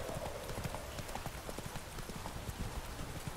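Steady clip-clop of horse hooves trotting at an even rhythm in The Witcher 3, continuous and fairly close, with a soft wash of rain-like background noise.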